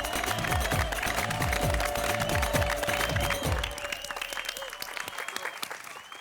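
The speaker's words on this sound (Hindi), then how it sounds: "आइए दुनिया भर के बच्चों के लिए हम एक बार जोरदार तालियां बजाते हैं।" Loud group applause at a Children's Day celebration, vigorous clapping from a crowd over a rhythmic thumping music track that cuts out midway, after which the clapping carries on alone and softer.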